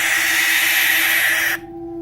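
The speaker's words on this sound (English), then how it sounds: "Next is the barn owl. Screams like a ghost in the dark." A barn owl's harsh, drawn-out hissing scream, loud and close, holding steady for about one and a half seconds before cutting off abruptly.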